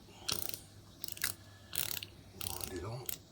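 Film advance lever on a Pax M2 rangefinder camera winds on with four short ratcheting bursts, quiet, close and mechanical, each a quick clicking rasp with brief pauses between.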